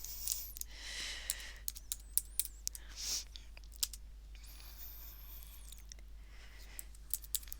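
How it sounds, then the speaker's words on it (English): Rapid, uneven clicks of typing on a computer keyboard during an online call, fairly close and light, in bursts with short pauses over faint background hiss; no one speaks. "Sorry, I'm just typing."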